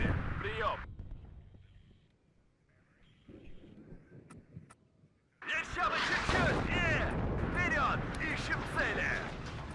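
Artillery barrages in the WARNO war game boom and rumble, a heavy burst at the start, quieter thuds in between, then a sustained loud roar of explosions and gunfire, with someone talking over the battle.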